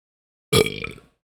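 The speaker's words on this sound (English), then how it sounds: "I always charge up the burps and then they're not as strong as I want them to be" A single short person's burp, abrupt and close, lasting about half a second with a rough croaky tail, alone against silence.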